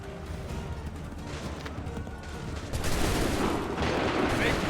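Musket volley in Assassin's Creed 3, a sustained roar of massed gunfire that swells louder partway through, with battlefield noise and shouting voices mixed underneath.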